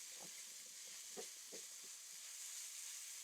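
Spinach cooking down in a pan for a breakfast omelette gives a faint, steady sizzle and hiss, with a few soft stirring clinks and scrapes.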